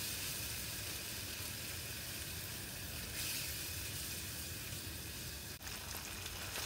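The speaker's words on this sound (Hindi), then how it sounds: "अब इसमें हम बीट की हुई दही डालेंगे और इसे लगातार चलाते हुए भूनेंगे हाई फ्लेम पर" Beaten yogurt sizzles in masala over a high flame, a steady, dense frying hiss with a faint scrape near the end, continuous and close with no talking.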